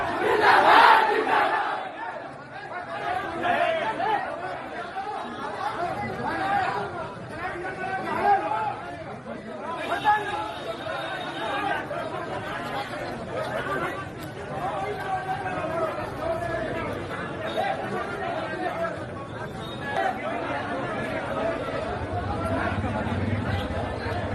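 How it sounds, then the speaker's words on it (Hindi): A large crowd gathered for Mukhtar Ansari raises loud chanted slogans and shouts, a dense roar of many voices with chatter throughout, swelling and dipping without pause. "और मुख्तार अंसारी के लिए कैसे नारे लगे,"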